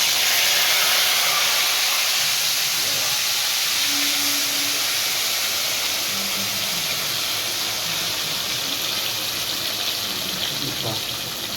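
Chicken for a Bengali doi kabab frying in hot oil in a wok, with a loud, steady hiss and sizzle throughout, close up and continuous.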